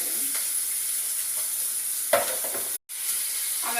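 Capsicum pieces fry steadily with onions and ginger-garlic paste in a hot pan, a continuous close sizzle with a brief stirring scrape midway and a short dropout near the end.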